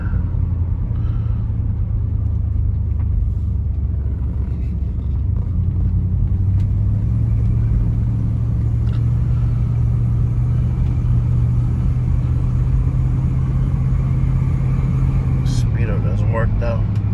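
A 1967 Chrysler Imperial on a test drive gives a steady, close engine and road rumble that drones evenly throughout without a break.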